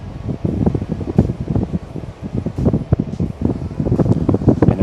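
A Levoit Vital 100S smart air purifier running at fan level 3, a loud, close, rushing whoosh of moving air that flutters and buffets unevenly against the microphone, with no talking.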